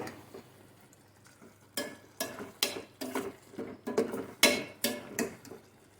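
A spoon stirring a thick Malabar spinach and tomato curry in a pan, with a run of rhythmic scraping and clinking strokes against the metal, close and fairly loud, no voices.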